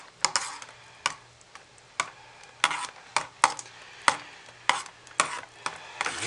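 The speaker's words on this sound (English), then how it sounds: "I'll have to stir some of that out." A utensil works through thick soap batter in a container to stir out whipped-in air, giving sharp, close clicks and scrapes at a steady pace of roughly two per second, fairly quiet and with no voices.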